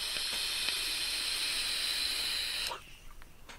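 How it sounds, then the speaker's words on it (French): Vapour from an Ijoy Diamond PD270 vape kit is exhaled in one long, steady, close hiss that cuts off abruptly, followed by faint quiet rustles. "C'est la vapeur."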